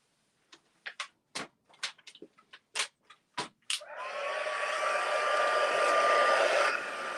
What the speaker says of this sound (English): so let's go and we'll heat emboss that